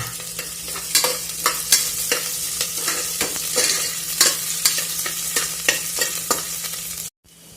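Chopped onion for khichdi sizzles in a hot pan while a spoon scrapes and stirs it in regular strokes, loud and close, stopping abruptly at the end.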